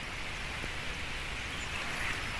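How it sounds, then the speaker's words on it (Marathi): Light drizzling rain outdoors in rural Konkan, a soft steady patter and hiss throughout with no talk. "पाऊस बघा रिमझिम झिमझिम पडतोय."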